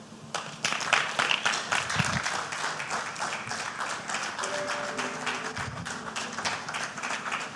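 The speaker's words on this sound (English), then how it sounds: "One more time, a round of applause for Pastor Tobare," An audience at a citizens' town hall meeting in Delta gives sustained applause: dense, loud clapping that swells and holds for several seconds, with faint voices underneath.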